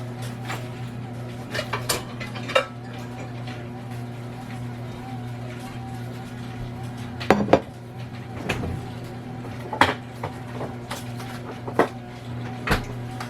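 A cast iron loaf pan is handled in a home kitchen, giving sparse sharp metallic clanks and knocks over a steady low appliance hum, with no talking.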